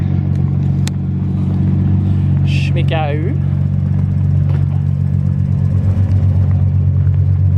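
A Nissan 350Z fitted with a GKtech lock kit runs loud and close, its engine holding a steady low drone with rising load and a voice speaking briefly over it.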